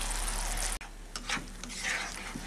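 Cashew and poppy seed paste dropped into spice masala frying in oil, a loud hiss that cuts off abruptly, then softer crackling sizzle with a few utensil scrapes as it is stirred.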